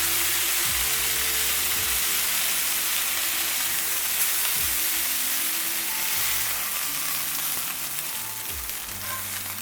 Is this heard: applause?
no